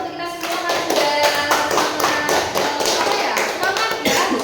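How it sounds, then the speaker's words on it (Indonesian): A physics class of students applauds together in a classroom, producing a run of fairly loud, rhythmic claps in repeated bursts, with voices mixed in underneath. "tepuk tangan untuk kita semua"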